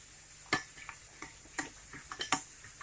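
A spoon stirs flour and water in a bowl for Moroccan harira, giving about half a dozen light, irregular clicks and taps against the bowl, close and clear, with no voices.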